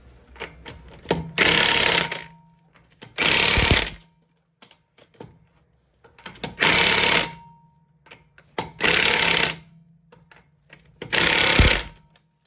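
An impact wrench tightens lug nuts on a 2008 Ford Edge during a brake job, firing five loud, roughly one-second hammering bursts separated by short quiet gaps and faint clatter.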